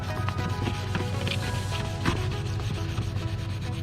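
Close, steady rubbing and scratching of sandpaper worked by hand over the plastic lens of a faded car headlight, continuing without pause and with no voices.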